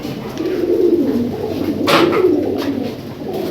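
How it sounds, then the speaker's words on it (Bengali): Pigeons kept by a breeder coo close by in low, repeated throaty calls over a soft ambient background, with no one talking. "এই খুব ভালো কবুতর"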